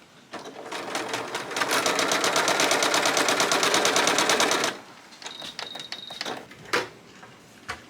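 Sewing machine stitching quilt pieces with a quarter-inch seam, a steady close mechanical hum of about three seconds, followed by scattered handling clicks and fabric rustles.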